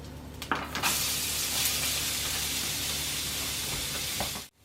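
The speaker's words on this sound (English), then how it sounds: "I'm going to soften the onions in the frying pan." Onions sizzle in a hot pan, a continuous close-up hiss and crackle that stops abruptly at the very end.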